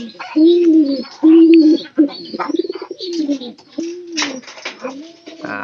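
Pigeons coo close by in a series of low, rolling calls, one after another, with softer chirps between them.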